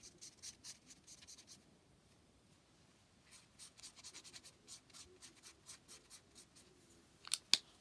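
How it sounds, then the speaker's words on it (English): Felt-tip markers scratching and squeaking across a paper towel to color it, short rhythmic strokes in bursts, fairly close and quiet, with a couple of sharper taps near the end. "And I'll color the other side for good measure."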